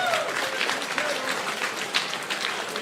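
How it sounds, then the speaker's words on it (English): Crowd at a FIRST Tech Challenge robotics league meet applauds the volunteers, a steady, full burst of many hands clapping in a large hall, with a faint voice trailing at the start. "give everyone who helped out and volunteered today a big round of applause"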